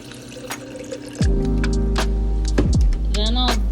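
Water pours steadily into a cup being filled to make flavored water. The close, loud stream rises in pitch as the cup fills, and a voice can be heard briefly.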